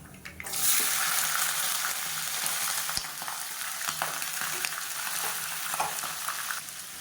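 Chopped small onions (shallots) sizzle and fry steadily in hot oil with mustard seeds and curry leaves for a spicy okra kara kuzhambu, with occasional stirring clicks against the pan and no talking.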